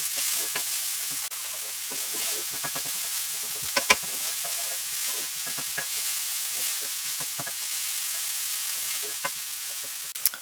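Sliced onions sizzle steadily in a hot pan while being stirred, with clicks and scrapes of the utensil against the pan over the constant frying hiss, during preparation of a pepper and egg gratin.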